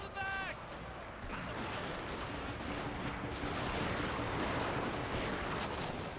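Dense, continuous volleys of musket and rifle fire crackle as troops shoot the enemy in a Total War: Shogun 2 Fall of the Samurai battle, a busy wall of shots without a pause.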